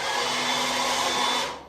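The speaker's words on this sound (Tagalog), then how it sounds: "So nagbo-blower na lang ako." Continuous airy whoosh of a hair dryer blowing hair in a hotel room while travelling, close and steady before trailing off at the end, with no talking.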